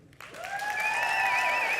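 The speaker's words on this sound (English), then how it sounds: "So just by applause, we're going to see who the winner is here" An audience claps and cheers to pick a contest winner, the applause rising quickly from a quiet start into a sustained, loud ovation with a few whoops on top.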